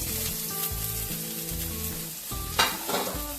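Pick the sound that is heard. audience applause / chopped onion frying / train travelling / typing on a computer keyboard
chopped onion frying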